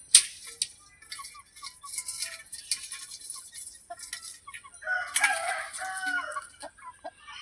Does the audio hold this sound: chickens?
yes